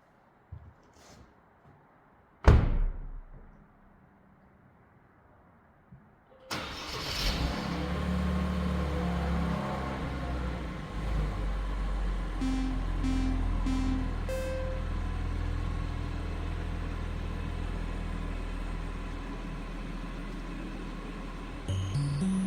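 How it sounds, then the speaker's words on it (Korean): A Genesis G80 with full sound insulation fitted drives on an expressway; a couple of thumps come first, then a steady, muffled cabin rumble of road and engine noise continues evenly. "자유로를 주행을 하면서 소음 상태를 확인하는 시간 한번 가져보도록 하겠습니다"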